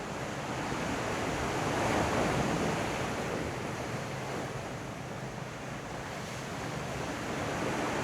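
Steady ocean surf rolls onto the shore beside an outdoor yoga class, a continuous wash of broadband wave noise with mild wind, no voices.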